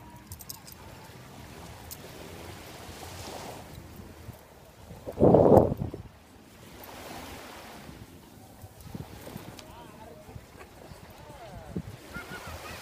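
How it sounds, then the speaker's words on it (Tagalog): Sea waves on a beach at Puerto Galera wash in a steady roar with wind buffeting the microphone, and one louder surge breaks near the middle; faint voices sit under the surf. "Lumalakas yung alon, nakakatakot eh."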